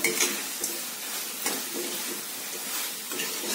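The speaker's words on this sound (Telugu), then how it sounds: "దీనంతా కూడా మనం బాగా పట్టేలాగా కలుపుకోవాలి" A spoon stirs fried cauliflower manchurian through sauce, sliced onions and green chillies in a hot pan, with a continuous sizzle and soft scraping strokes close by.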